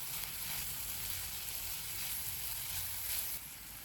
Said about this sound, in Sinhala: ඉඟුරු සුදු ලුණු පේස්ට් එක දාලා විනාඩියක් විතර බැදගන්න